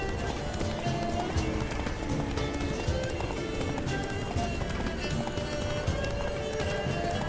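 Roach the horse galloping in The Witcher 3, a steady rapid clip-clop of hooves running continuously alongside game ambience, with little talk over it.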